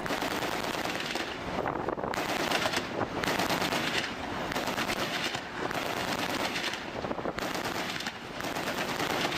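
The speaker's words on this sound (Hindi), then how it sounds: "इस बोट पर कैसे अंधाधुंध फायरिंग की गई।" US Coast Guard gunfire aimed at a suspected drug boat, dense bursts of rapid shots in repeated volleys separated by brief gaps, harsh and clipped with wind noise.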